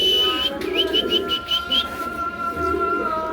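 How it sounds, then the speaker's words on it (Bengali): Pigeons at a pigeon seller's, heard nearby as a series of short, high whistling coos and chirps in quick succession, then a lower sustained tone under faint background noise. "একদম কোয়ালিটিফুল, একদম নতুন কবুতর"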